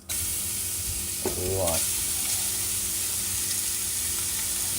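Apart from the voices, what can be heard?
bacon sizzling in a hot pan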